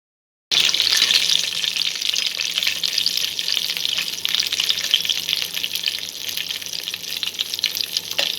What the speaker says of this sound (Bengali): কাজুটা আগে একটু ভেজে নেব। কড়াতে আমি সাদা তেল অল্প পরিমাণে দিয়ে দিয়েছি।